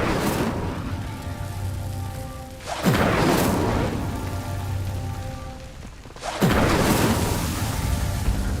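Incendio fire spell cast in Hogwarts Legacy, two sudden loud whooshing bursts of flame a few seconds apart over a steady crackling roar, with no voices.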